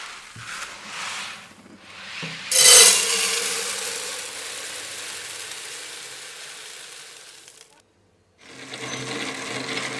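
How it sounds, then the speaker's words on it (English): Hand-cranked grain mill crushing malt for a brew day, heard as a scraping, grinding rasp in uneven bursts with a louder stretch early on and a brief pause before the grinding resumes. "I've been milling this by hand and my arm is nearly about to come off."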